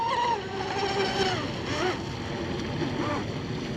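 Seaducer SD3 FE-30 mono-hull RC boat on a 6S motor and battery, a steady whining motor hum with pitch sweeps as it turns, heard over continuous wind and water noise at moderate distance.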